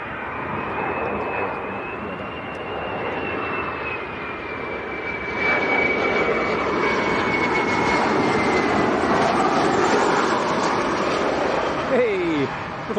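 A Jet2 Boeing 737-300 arriving at Leeds Bradford Airport on a very windy day, a loud sustained jet engine roar with a high whine, growing steadily as it approaches, with no one talking.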